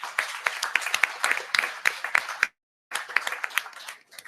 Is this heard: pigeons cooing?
no